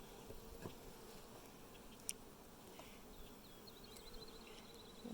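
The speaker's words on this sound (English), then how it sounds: "there is a lot more bees in here" A faint, continuous hum of many honey bees buzzing together in a hive's honey super, low and steady, with a few brief sharper sounds.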